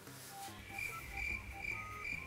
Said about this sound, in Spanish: Dejen salir los grillos.